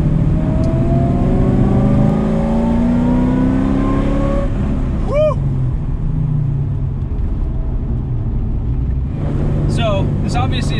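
A Mazda RX-7 with a swapped LS V8 accelerates on a public road under partial throttle, its deep engine note rising steadily through the gears, loud and close inside the cabin, with a faint squeal near the middle.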